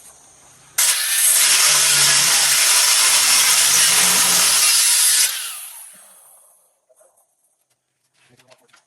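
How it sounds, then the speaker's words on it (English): An angle grinder scores marks across thick steel plate for a custom battery box, a loud, steady broadband grind lasting about four seconds before winding down and falling silent. "I'm going to take my grinder and just make a little bit of a mark down each one of these."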